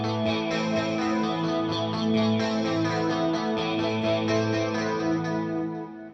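An electric guitar runs through a flanger pedal in a pedalboard rig, sustained chords with a sweeping, swirling whoosh, steady and fairly loud for about six seconds before fading out.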